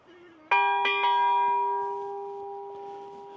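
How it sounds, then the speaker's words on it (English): A village bell on the Camino de Santiago in Navarra, struck once loudly and then twice more in quick succession, its bright metallic ring sustaining and slowly fading into outdoor quiet. "So that's the bell there,"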